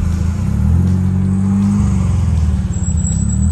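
A Mazda RX8 engine runs with a loud, close, throbbing low rumble that rises and shifts in pitch as it revs, continuous throughout with no voices.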